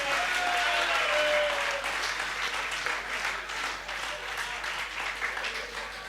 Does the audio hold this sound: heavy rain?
no